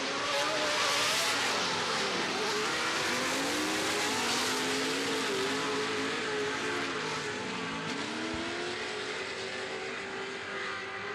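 Off-road race trucks in the Sportsman and Pro classes at a TORC round at Bark River roar loudly as they rev at a restart into turn 1, with engine pitch rising and falling continuously and no pause in the noise.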